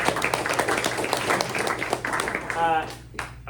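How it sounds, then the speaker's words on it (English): Audience applause at a press luncheon, scattered claps that build into a moderate round from the room, mixed with chatter and voices talking throughout. "Let's give Bob a round of applause"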